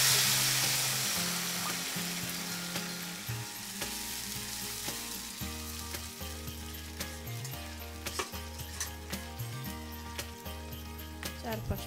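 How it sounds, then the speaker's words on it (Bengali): Chicken pieces fry with browned onions in a village-style desi chicken curry, a steady close sizzle with occasional stirring clicks and scrapes, while a low mechanical hum runs underneath. "এবার মাংসটা দিয়ে দিচ্ছি।"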